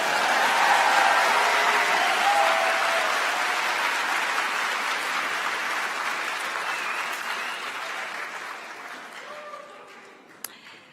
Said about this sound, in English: Okay, you can applaud for that one.